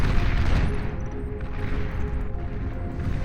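Dense, continuous rumbling volleys of cannon and gunfire in a strategy video game battle, loud and sustained with overlapping blasts and no clear gaps.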